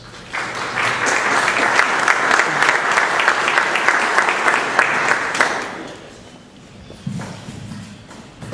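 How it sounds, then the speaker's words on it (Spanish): Loud applause from a large crowd, steady clapping for about five seconds before it fades out into a quieter room. "Démosle la bienvenida con un fuerte aplauso"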